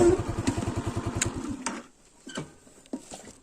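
Motorcycle engine idling near a highland pasture, heard as a fast, even putter that stops after about a second and a half, followed by quiet with scattered faint knocks and rustles.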